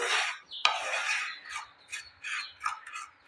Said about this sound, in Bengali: এতিয়া মই ল' ফ্লেমত ভাজি ল'ম চুজিখিনি